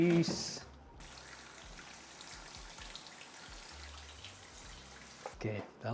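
Water poured onto freshly repotted houseplants in tall pots, a steady soft splashing and trickling through the soil that runs for several seconds, with brief clattering at the start and end.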